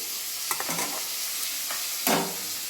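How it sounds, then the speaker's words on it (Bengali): Onions frying in white oil: a steady background sizzle broken by a few scraping stir sounds and one louder stroke near the end. "পেঁয়াজগুলো আমি একটু সাদা তেলে ফ্রাই করে নেব"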